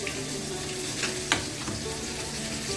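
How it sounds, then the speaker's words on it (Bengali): Small whole puti fish fry in hot oil with spring onions, giving a dense, continuous sizzle with a few sharper crackles and stirring scrapes. The cooking is close by, with no talking. "আর এর সঙ্গে হবে পেঁয়াজ কলি ভাজা, পুঁটি মাছ দিয়ে পেঁয়াজ কলি।"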